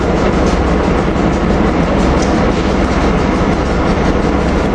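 A train rolls steadily past on the rails near 30th Street, a continuous loud rumble with clickety-clack of wheels over the track, close and unbroken throughout, with no voices.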